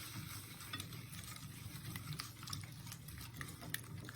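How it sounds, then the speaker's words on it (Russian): Eggs are beaten with sugar in a bowl, a soft, quick, continuous scraping and clicking of the whisk, close and quiet, with no talk over it. "Размешиваем хорошо яйца с сахаром."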